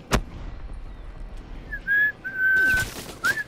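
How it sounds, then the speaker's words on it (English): A person whistles a few short, clear tones during a Call of Duty: Black Ops III match, with sharp gunfire-like bursts from the game before and after. "Stop whistling."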